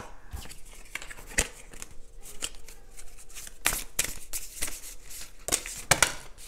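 Tarot or oracle cards handled and shuffled close by during a card reading, a run of soft riffles, slaps and flicks in uneven bursts, with no speech.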